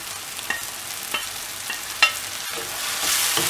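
Coriander frying in a pan for a black chickpea curry, a low sizzle punctuated by a few spatula scrapes and stirs, nearby, with the hiss swelling louder near the end.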